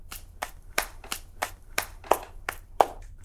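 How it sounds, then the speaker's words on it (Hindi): Hands clap about nine times in a steady rhythm, each one sharp, close and distinct, with a low hum underneath and no talking. "ताली बजा रहे हो?"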